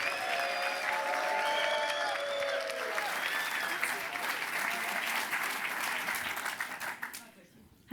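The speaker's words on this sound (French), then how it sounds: "Merci d'applaudir votre présidente, Audrey, s'il vous plaît." A conference audience applauds a speaker at a French campus event, with dense, sustained clapping and a few cheers early on before the applause thins and fades out near the end.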